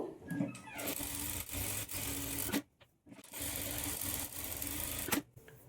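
A sewing machine stitches churidar pant seams in loud rapid whirring bursts, pausing briefly midway before running again, close and clear.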